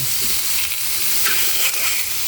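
Chicken sizzles steadily in a hot pan with very little oil, a constant crackling hiss with a few brief stirring scrapes, no voices.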